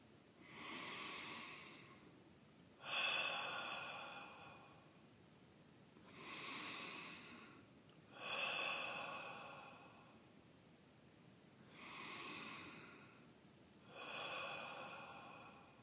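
Slow, deep breaths during a guided meditation exercise, each long inhale followed by an audible exhale, repeating in a calm, even rhythm about every three seconds, close and fairly quiet with no talking.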